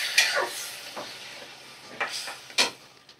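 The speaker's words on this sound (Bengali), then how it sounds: "তো ডালটা দিয়ে দিলাম।" Boiled red lentils are tipped into a pan and stirred, giving a few soft scraping swishes and brief sizzling bursts spaced over a few seconds, faint and close with no talk.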